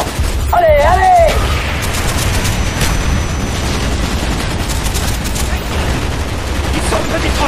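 Gunfire in Call of Duty Black Ops during a Vietnam war battle, dense continuous rattling shots and booms under shouted voices, loud and chaotic.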